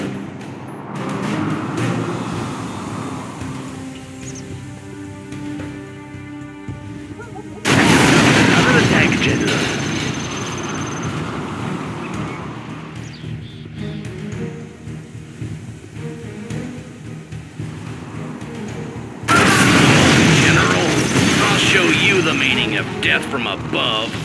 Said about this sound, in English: have commenced bombing